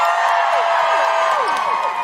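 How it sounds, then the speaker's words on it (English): A theatre audience at a live podcast show in the Hammersmith Apollo cheers loudly, with a dense burst of whoops and shouts and a few rising whistles over continuous crowd noise. "Could you give me a cheer if you have seen Six the Musical?"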